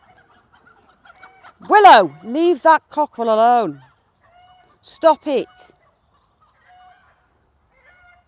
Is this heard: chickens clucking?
yes